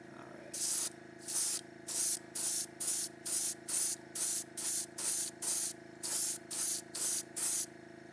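Airbrush spraying deep green candy metallic paint in about fourteen short, even bursts separated by brief pauses, with a steady low hum of the compressor running underneath throughout.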